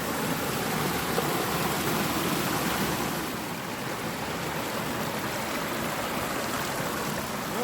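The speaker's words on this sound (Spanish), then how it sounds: "hay una gruta de agua que se oye ya" Water flows steadily in a grotto near a spring of mineral water, a constant close rushing hiss with no voices over it.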